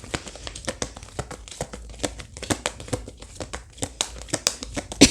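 A tarot card being drawn and shuffled from a deck, producing rapid, close crinkling and slapping card sounds in an irregular rhythm, fairly loud, with little or no speech.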